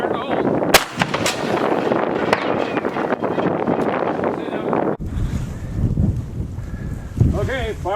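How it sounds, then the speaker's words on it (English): A Whitworth cannon fires outdoors with a sharp, heavy blast that cracks out early, followed by rumbling wind noise and outdoor ambience, with a faint voice near the end. "So this is the first shot in about 3 or 4 years out of this particular cannon."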